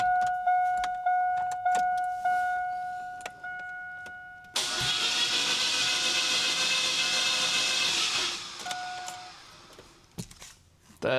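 An old truck that has sat unused for six years cranks on a weak battery: a series of warning chimes, then a sustained loud hissing, grinding crank for several seconds that fades out without firing.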